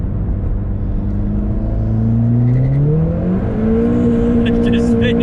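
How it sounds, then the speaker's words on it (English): A tuned Ford Fiesta ST at full boost doing a burnout, engine revs climbing in a loud rising drone with wheelspin roar, heard from inside the car, close and continuous, with a brief high whine near the end. "That was just a massive burnout."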